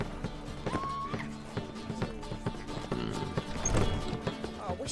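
Roach the horse galloping in The Witcher video game, rapid hoof clip-clops in a running rhythm, with a brief whinny and short spoken lines mixed among the hoofbeats.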